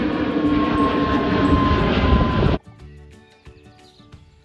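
An airplane at Lajes military air base on Terceira roars with a loud, broad engine rush that cuts off abruptly, followed by quieter ambience with scattered faint clicks and tones.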